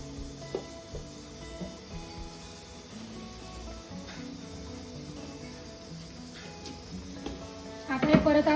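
A spoon stirs pickle masala in a pan, soft scraping and faint sizzling that run steadily under a low background, ending in a louder clatter of movement.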